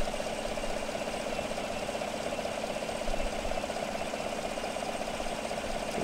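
A car engine idles steadily while a battery charging test runs, with a faint belt whine layered over the even mid-range hum; constant and close, no talking.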